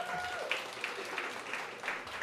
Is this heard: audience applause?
yes